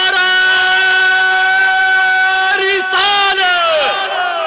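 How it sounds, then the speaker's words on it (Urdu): A procession crowd at an Eid Milad un Nabi jaloos in Southall, London, answers slogans with loud, sustained unison shouting that swells and breaks into overlapping voices. "ذرا محبت سے نعرے کا جواب دیں."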